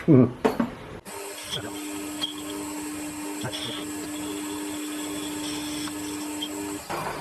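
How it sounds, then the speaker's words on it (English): A metal lathe turning the outside of a part between centres runs with a steady tonal hum and light cutting noise for several seconds, after some brief clanks at the start. "Finished turning the outside, the chamfer on there and a chamfer on there."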